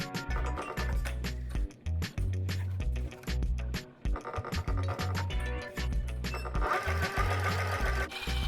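A sewing machine stitching a tooled leather journal cover, close and loud, running in rapid rhythmic bursts with brief stops and restarts and a steady mechanical thumping underneath, no voices.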